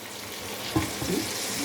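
Masala fish grilling slowly over low heat in a pan gives a faint, steady sizzle with a few soft pops and no talking.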